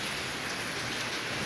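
Heavy rain pours down steadily on a Gujarat village, a dense, continuous hiss of drops with no pauses and no voices.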